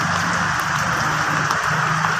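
Steady rain pours down, a dense constant hiss filling the whole stretch.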